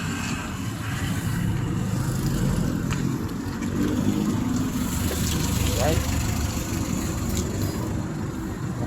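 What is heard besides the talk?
cars lined up idling at a roadside stall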